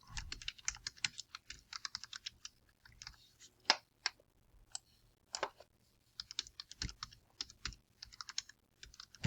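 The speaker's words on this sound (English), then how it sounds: "Then I just type this information once more." Fingers type on a computer keyboard in quick bursts of clicky keystrokes, with short pauses and a few louder single presses, close and quiet, no talking.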